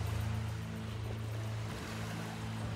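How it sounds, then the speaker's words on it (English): Ocean waves wash in a steady, continuous surge during an outdoor tai chi session, a broad soft roar with a low rumbling undertone that holds at an even level throughout. "I really hope you can hear the waves."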